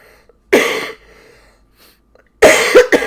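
Two bursts of harsh coughing, the first around half a second in and the second near the end, separated by a quiet pause.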